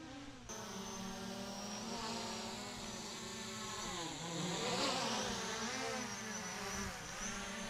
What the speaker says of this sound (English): There's a hummingbird chasing the drone.